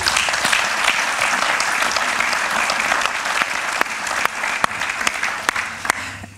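Steady, loud applause from an audience at a round table marking 50 years of Clairefontaine, dense clapping throughout with a few sharper individual claps near the end.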